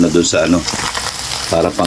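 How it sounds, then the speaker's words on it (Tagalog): Oil sizzles and crackles steadily in a pan as dried fish fries while a person talks over it, the frying hiss continuing through the pauses. "nagpiprito na po tayo ng tuyo"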